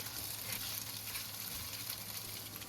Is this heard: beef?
yes